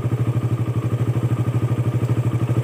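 A carbureted Suzuki Raider 150 motorcycle idles close by with a steady, rapid, even putter while being shifted into first gear.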